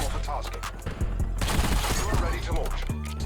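Rapid SMG fire in Call of Duty, a dense burst of close, loud automatic shots layered with game noise and some talk.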